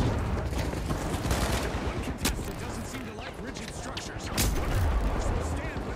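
Rapid bursts of gunfire and explosions from a competitive match of the shooter game The Finals, loud and continuous, with players talking over the shooting.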